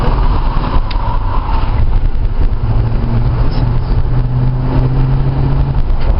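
A 1972 Ford Ranchero GT with a 351 Cobra Jet V8 and 4-speed manual driving down a street, a loud continuous engine drone with low rumble and road noise, heard from inside or close by.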